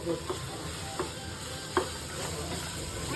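Tomatoes go into a pan of frying ginger and garlic, a soft steady sizzle broken by several distinct stirring clatters and scrapes, close but fairly quiet, ending with a louder splash of activity.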